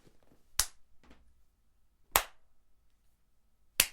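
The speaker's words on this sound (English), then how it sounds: "Clapping at your annoyingness" Three sharp, loud hand claps spaced well apart, each a crisp isolated smack against a quiet background, with faint murmuring between them.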